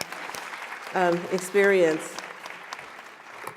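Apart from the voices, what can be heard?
audience applauding the students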